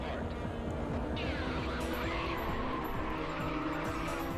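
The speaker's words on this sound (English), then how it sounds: "Oh my god, the drift. The big drift." In R: Racing Evolution, a touring car drifts in a Japan Touring Car Championship race, its engine droning steadily while the tires squeal faintly through the slide. A voice talks over it.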